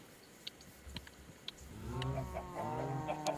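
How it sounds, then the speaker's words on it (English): Chicken clucking in the Minecraft modpack Enigmatica 2, a few soft repeated clucks amid light game clicks and steps, growing busier toward the end. "So, let's grab a chicken."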